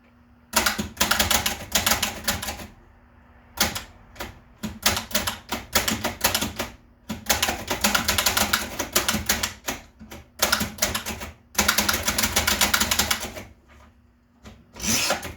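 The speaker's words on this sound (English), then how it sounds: "I'm going to give you a brief typing sample, and you'll get a general idea of how this works." A 1920s Bing No.2 portable typewriter types in rapid bursts of sharp, close key strikes. The bursts are separated by brief pauses, with no bell heard.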